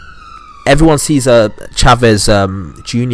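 A police siren wails steadily in the background, its rising and falling tones running beneath someone talking close by.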